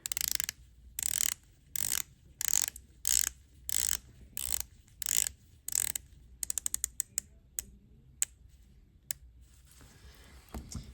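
Omega Seamaster 300M dive watch bezel being turned, a close series of crisp ratcheting clicks: evenly spaced bursts at first, then quicker, sparser clicks toward the end, heard alone.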